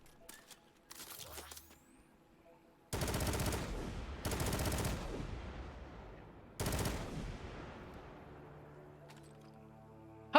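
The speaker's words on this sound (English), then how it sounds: "How the hell is that a shotgun?" Shotgun blasts in Destiny 2, three heavy booming shots spaced apart, each with a long ringing decay, loud and close, followed by quieter game effects.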